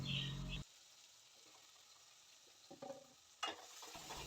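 Okra tossed into a pan of sautéing onion, tomato and chilli gives a loud sizzling burst, then quieter frying with a few stirring scrapes and clatters near the end.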